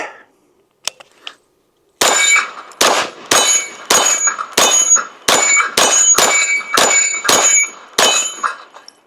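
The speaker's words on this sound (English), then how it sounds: "I'm going to run the charging handle all the way back, let it go." Charging handle on a pistol caliber carbine, Springfield Kuna or Bear Creek BC9, yanked back and let go, then a string of about ten loud, ringing metallic clangs spaced evenly close to the mic.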